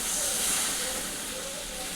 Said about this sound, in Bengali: ফ্রেন্ড, মশলাটা ভাজা হয়ে গেছে, এবার জলটা দিয়ে দিচ্ছি।